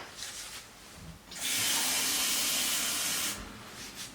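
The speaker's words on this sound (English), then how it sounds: "And let's get some water." Water from a kitchen tap runs steadily for about two seconds into a container for oats porridge, a close, bright rushing hiss between quieter handling sounds, with no one speaking.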